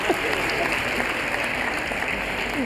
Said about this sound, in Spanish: Cerramos esta ronda, un aplauso, bravo